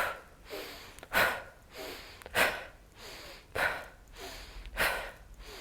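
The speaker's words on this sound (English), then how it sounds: "so in through the nose, exhale through the mouth." Slow, deliberate breaths drawn in through the nose and pushed out through the mouth during a seated yoga meditation, about five close, even cycles, each a soft inhale followed by a louder, airy exhale.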